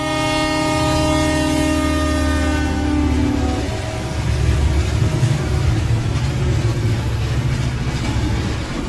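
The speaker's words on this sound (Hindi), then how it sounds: "तभी एक दूसरा ट्रेन इस ट्रेन के बगल से क्रॉस होता है" A second train passes close alongside a moving train, a loud sustained horn blast giving way to the heavy rumble and clatter of wagons rushing by.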